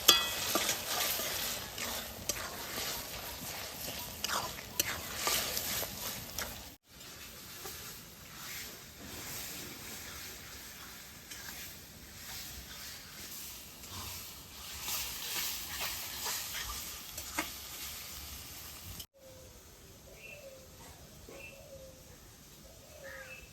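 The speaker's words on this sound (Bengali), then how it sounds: "বেশ সুন্দর করে নাড়াচাড়া দিয়ে নিন।" A spoon stirs taro leaf curry in a village-kitchen pan, giving a quiet, steady scraping and soft sizzle that keeps going in patches, with faint bird calls outdoors and a short break near the end.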